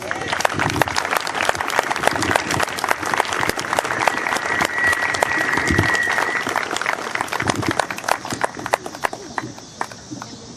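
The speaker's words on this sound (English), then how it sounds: "let's give another hand of applause for Chalie Meadows." Sustained applause from a crowd, dense and steady clapping that fills the whole stretch before thinning slightly near the end.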